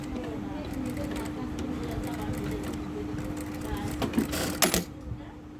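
A Jack A5E sewing machine runs dense stitching as a steady mechanical whir throughout, with a few sharper clicks and bursts near the end.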